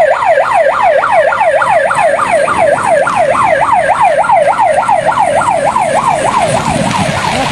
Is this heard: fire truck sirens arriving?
yes